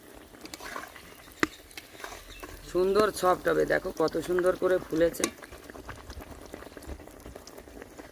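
Village-style jackfruit pitha deep-fries in hot oil with a steady crackling bubble throughout, while a person talks briefly over it in the middle.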